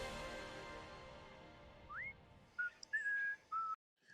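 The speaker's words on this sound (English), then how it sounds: "Of course, he had whistled with Data." Someone whistles a short tune alone: a rising note, then a few clear held tones with brief pauses, soft and fairly close.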